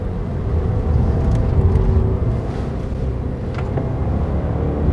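A 2015 Subaru Levorg 1.6 GT-S in sport mode accelerating, heard from inside as a loud, steady low engine drone and road rumble that holds level through the whole stretch.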